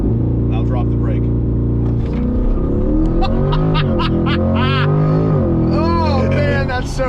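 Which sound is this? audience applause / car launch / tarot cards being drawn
car launch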